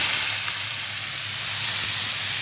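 Chopped banana flower mixture, squeezed of its juice, tipped into a hot pan with curry leaves for thoran, sizzling and hissing in a steady continuous wash close up, with no talk.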